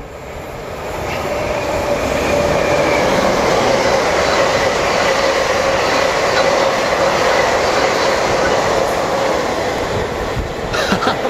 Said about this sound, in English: I only had to wait about 30 seconds for a train to come through.